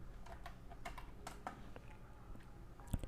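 Python code being typed on a computer keyboard, a quiet, close run of uneven key taps and clicks in a brief burst with short pauses, no voices.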